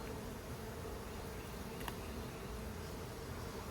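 Honey bees buzzing around an open hive during an apiary inspection, a dense, steady hum of many insects close by with one faint click partway through.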